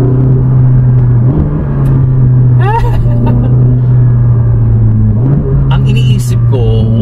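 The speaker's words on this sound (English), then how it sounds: "The power gives you the pleasure of the naturally aspirated V8." Naturally aspirated V8 of a Ferrari 458 Speciale heard from inside while driving, a loud steady low drone that rises slightly in pitch twice, with brief voices over it.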